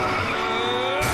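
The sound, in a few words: car skidding and crashing in BoJack Horseman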